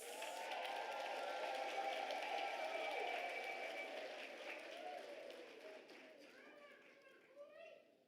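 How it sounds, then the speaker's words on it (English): Applause at a university autumn graduation ceremony, a dense crowd clapping in a large hall, sustained then gradually thinning and fading away, with faint voices emerging at the end. "let us give them a round of applause"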